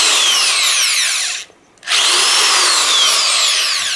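A 3/8-inch right-angle electric drill runs at a loud, steady whine, close up, dropping briefly to near silence mid-clip before spinning back up to full speed.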